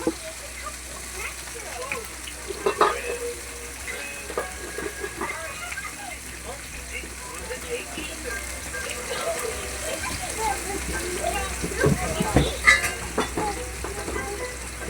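Food frying in oil in a very hot pan on a stove, with a steady loud sizzle and scattered crackling pops of splatter running throughout, under a voice talking.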